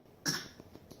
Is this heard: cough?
yes